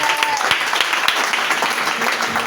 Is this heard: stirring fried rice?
no